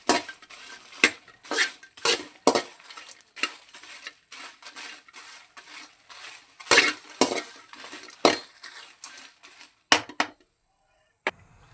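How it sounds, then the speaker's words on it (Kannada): Whole spices such as pepper, coriander seeds, fennel, cinnamon and cloves are stirred in a pan, with a series of sharp, irregular scrapes and clinks of a spoon against metal over a faint, quiet sizzle. "ಈಗ ಇದನ್ನ ಚೆನ್ನಾಗಿ ಫ್ರೈ ಮಾಡ್ಕೊಳ್ಳೋಣ"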